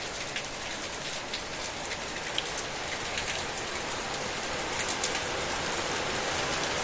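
Steady rain falls outdoors in a garden, a dense, even hiss of drops hitting surfaces that holds constant throughout with no voices.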